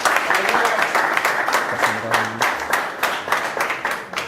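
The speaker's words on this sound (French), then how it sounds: "Est-ce qu'on peut acclamer s'il vous plaît?" A church congregation claps and cheers in sustained applause during a worship service in Paris, dense rhythmic claps filling the room with voices mixed in.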